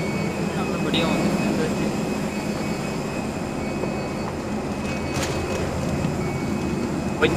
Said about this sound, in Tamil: பரவாயில்ல, சேஃப்டி லாண்டிங்.